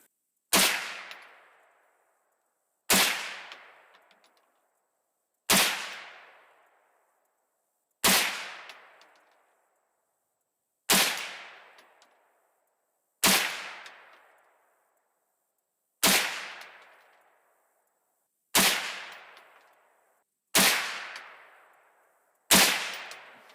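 Nine evenly spaced shots from a Savage A22 .22 WMR semi-automatic rifle firing 45 grain rounds, each a sharp, loud crack with a ringing tail, roughly two and a half seconds apart, with no voices.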